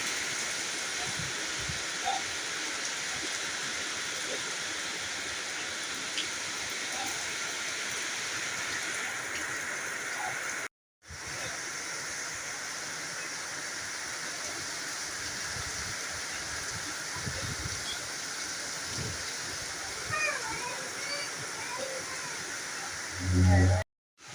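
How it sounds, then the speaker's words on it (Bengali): Heavy rain pours down in a steady, dense roar, with a brief cutout midway and a louder thump near the end. "খুব জোরে বৃষ্টি হচ্ছে"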